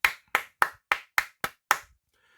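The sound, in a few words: one person clapping hands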